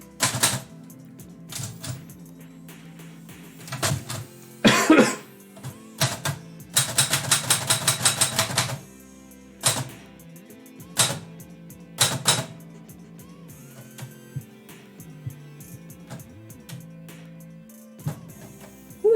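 Manual typewriter keys clack in irregular bursts, with one dense rapid run of strikes and scattered single knocks, close and fairly loud with no voices.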